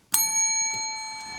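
A desk bell rung as a quiz answer on a podcast: a single bright ding with a sharp strike that rings on and slowly decays, alone and close.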